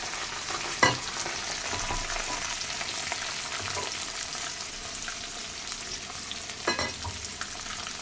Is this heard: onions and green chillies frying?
yes